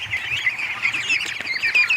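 Ducks quack and squawk in a rapid, overlapping chorus inside their duck house, close and fairly loud, the calls chattering continuously without pause.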